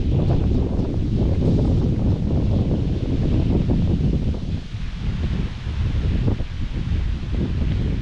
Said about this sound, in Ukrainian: Вітер то посилюється, то трохи стихає, але дуже-дуже сильний сьогодні.